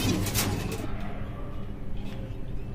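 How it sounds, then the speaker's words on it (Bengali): Pet pigeons on a balcony give soft low coos close by as their cage door is opened, with faint rustling and room noise around them. "কবুতরগুলো, এক এক করে বের হচ্ছে"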